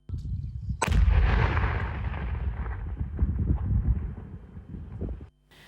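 A controlled detonation of explosives: a sudden loud blast booms, followed by a long rumbling roar that slowly fades, heard from a distance outdoors.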